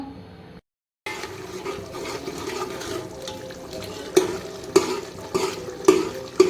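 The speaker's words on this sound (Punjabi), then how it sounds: "ਇੱਕ ਪਾਸੇ ਮਸਾਲਾ ਭੁੰਨਿਆ ਜਾ ਰਿਹਾ ਜੀ" Spices roasting in a pan as tempering for a vegetable dish, a soft steady sizzle after a brief silence, punctuated by several sharp clinks of a utensil against the pan, close and moderately loud.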